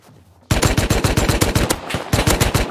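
Automatic gunfire in the video game Rust bursts in after a half-second lull, a rapid run of loud, close shots with a brief gap before another volley, with no talking over it.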